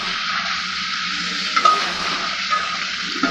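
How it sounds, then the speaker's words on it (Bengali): Jali gourd frying in a pan with mustard paste, a loud constant hiss of hot oil close by, with a couple of brief stirring clinks partway through and no voices. "এই দেখো জালি ভাজা করছি।"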